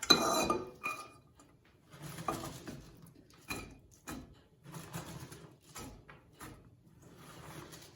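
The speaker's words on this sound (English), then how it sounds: "Next, we're going to put our red cabbage into a saucepan." Red cabbage is tipped into a saucepan in a home kitchen, giving bursts of rustling thuds and light metallic clatter, separated by short quiet gaps, with no talking.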